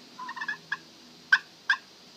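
Turkey call: a quick run of soft notes, then two sharp, loud clucks with a pause between, close and clear with no talking.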